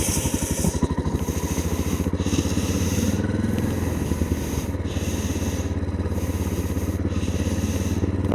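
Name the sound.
vehicle wheel spinning in sand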